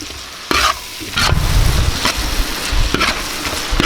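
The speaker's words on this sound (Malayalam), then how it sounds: "ഇത് നല്ലപോലെ ഒന്ന് വഴറ്റിയെടുക്കാം" Fish head curry masala sautéing in a pan for a Kerala toddy-shop style curry, a steady loud sizzle broken by several sharp scraping stirs of the spatula, close up with no voices.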